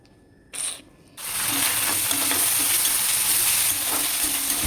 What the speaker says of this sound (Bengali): এটা হচ্ছে গিমের শাক, যেটা ভাজা বসিয়েছি